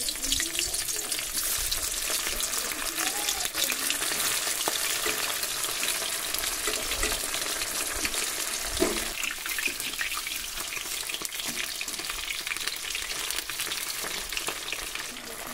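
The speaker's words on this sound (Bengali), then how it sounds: "এখানে তেল খুব ভালো করে গরম করে নিয়েছি। আমি এই ভাজা মাছটা আমি আর একবার ভেজে নেব।" Foli fish being re-fried in well-heated oil: a steady, dense sizzle and crackle runs unbroken throughout, close and fairly loud, with no voices.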